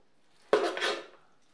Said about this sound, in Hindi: और इसको हल्के हाथ से हम मिक्स कर लेंगे ताकि टूटे ना।